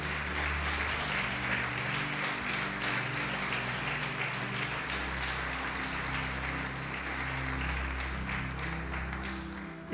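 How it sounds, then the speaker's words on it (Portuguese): Church congregation applauding their pastor, a dense, steady wash of clapping that fills the whole stretch at even loudness over a low sustained musical hum. "Quem pode aplaudir o Senhor Jesus por isto?"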